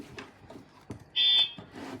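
A single short electronic beep-like honk, clear and sustained for a moment, amid faint handling noises and soft clicks.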